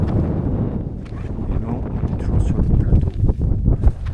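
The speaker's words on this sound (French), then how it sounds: "Et avec le vent, je pense que vous l'entendre bien d'ailleurs" Strong wind buffets the microphone in loud, rumbling gusts on the Mont Lozère summit while a person speaks briefly underneath.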